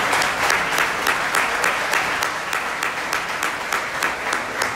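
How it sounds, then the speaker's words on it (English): Guests at a university gala clap for an event sponsor, a lively, dense round of applause from a sizable crowd with a slightly pulsing rhythm, continuing strongly throughout. "Please give them a round of applause for being a great sponsor for our event tonight."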